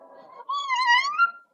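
A hungry house cat meows once, a clear drawn-out call rising and falling over about a second, close and fairly loud after a stretch of faint background murmur.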